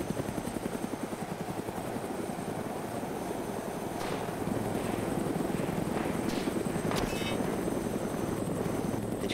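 A helicopter in the video game Arma 2 whirs steadily with continuous rotor chop, moderately loud and close throughout, with a few brief sharper game noises partway through and no talking.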